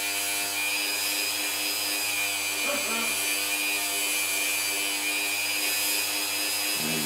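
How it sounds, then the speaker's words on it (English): Metal lockpick being polished on a powered tool, a continuous high whirring grind with a steady tone, close and unbroken for the whole stretch. "it polishes the metal and makes it very smooth"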